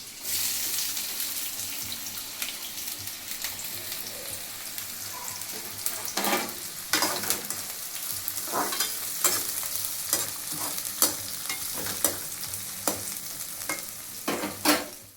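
Onions frying and being stirred in a pan for fish curry, a steady close sizzle broken by repeated scraping stirs and clinks, with a tap running briefly alongside.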